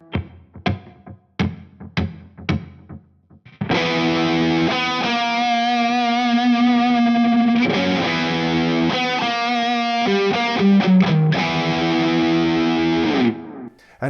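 A few plucked electric guitar notes, then a sustained, evenly squashed distorted guitar chord and riff ring out with a thick, effected tone, through a Cali76 Compact Deluxe compressor pedal and Mesa MkV25 amp.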